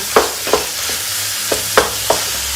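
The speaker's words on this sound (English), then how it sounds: "this first step is just browning this, getting the meat all browned up here." Ground meat browning in a pan over medium-high heat, a steady close sizzle broken by about six sharp scraping stirs at irregular intervals, with no voices.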